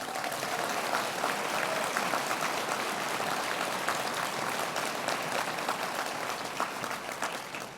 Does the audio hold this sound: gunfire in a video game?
no